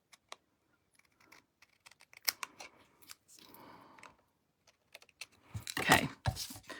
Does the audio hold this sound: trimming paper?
yes